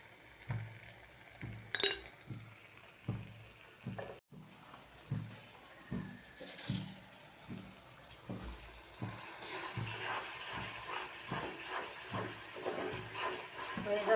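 Chili and turmeric sizzle in oil for a dried-fish (shutki) oil relish while a spoon scrapes and stirs the pan in a steady rhythm, the frying hiss swelling louder toward the end.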